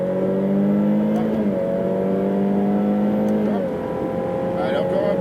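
A Ferrari F8 Tributo accelerates at full throttle on a track with a loud, close engine roar rising in pitch. Two quick gear shifts dip and reset the tone, and a voice talks over it.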